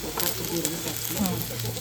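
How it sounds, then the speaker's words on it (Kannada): Cumin and mustard seeds sizzling in a generous amount of hot oil, a steady close crackle and hiss with small pops, for a Karnataka-style vegetable dish. "ಸೊ ಫಸ್ಟ್ ಎಣ್ಣೆನ ಇಲ್ಲಿ ಜೀರಿಗೆ ಸಾಸಿವೆ ಹಾಕ್ರಿ"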